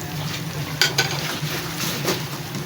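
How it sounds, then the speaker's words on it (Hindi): Ginger frying with softened onions in a pan, a steady close sizzle with a couple of sharp clinks and scrapes from stirring. "अदरक को भून लेंगे।"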